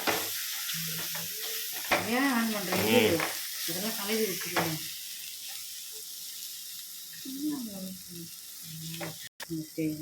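Onion, fennel, green chilli and mint sauté in oil in a pan for Madurai ghee sukka, a steady sizzle running throughout while a voice talks over much of it.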